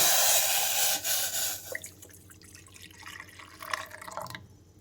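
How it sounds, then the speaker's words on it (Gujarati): Hot water pours in a steady stream at first into another vessel, then thins to scattered drips and small splashes against the vessel, close by. "એ પાણીને આપણે એક બીજા વાસણમાં લઈ લેશું"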